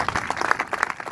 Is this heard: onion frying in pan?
no